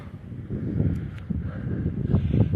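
Steady wind gusting across an exposed volcanic crater rim at Capulin Volcano, a broad low rumble of buffeting against the microphone that swells and eases throughout, with brief rustling bursts and no voice.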